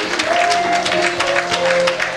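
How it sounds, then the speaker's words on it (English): A church congregation at a Baptist service claps for the choir, a loud, dense wash of applause that fills the space, with a few voices mixed in. "Let's get the choir another round of applause."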